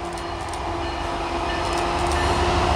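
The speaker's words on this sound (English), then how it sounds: "Well, trains are going." Trains pass in Crescent, Pennsylvania with a steady, loud rolling rumble of railcars and faint rhythmic clicks over the rails, continuous throughout with no talking.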